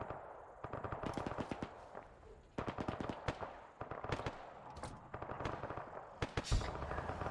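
Rapid bursts of automatic rifle and machine-gun fire in the Arma 3 UNITAF military campaign set in Syria, crackling in repeated volleys with short pauses, moderately distant, no talk over it.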